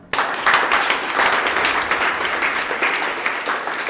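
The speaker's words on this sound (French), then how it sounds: "je vous demande de vous applaudir vous-même" Trainees at a training camp applaud themselves, a sudden burst of lively group clapping that starts sharply and holds loud and dense to the end.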